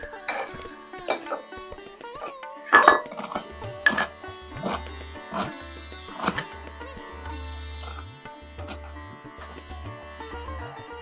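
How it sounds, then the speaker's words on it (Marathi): An onion being cut for a guar bean curry on a small stove, a handful of sharp knife chops and clinks of a blade against a board and utensils, spaced irregularly over a low humming background. "आता मी कांदा कापून घेते."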